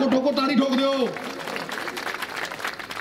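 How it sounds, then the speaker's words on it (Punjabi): Crowd applause at a Punjabi political rally breaks out as a speaker's voice trails off, then continues as steady, dense clapping from a large gathering for the remaining seconds. "ਠੋਕੋ ਠੋਕੋ ਤਾੜੀ ਠੋਕ ਦਿਓ।"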